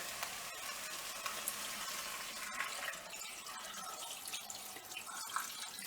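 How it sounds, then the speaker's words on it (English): Stock poured into a pan, a steady continuous splashing pour with light sizzling, close and without talk. "and add enough stock"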